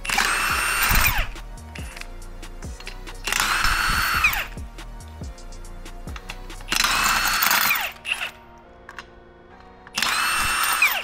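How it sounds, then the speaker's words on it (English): A power tool, likely an impact driver, zips in four loud bursts separated by pauses while the rear tires are taken off a riding mower being prepared for a Hydro-Gear transmission service. "I'm first going to remove the rear tires off the mower."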